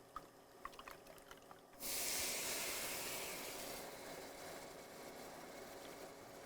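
Beef stock poured into a hot pan with flour for shepherd's pie, a few faint clicks giving way to a sudden loud hissing sizzle that settles into a steady, softer bubbling hiss, close and without talk.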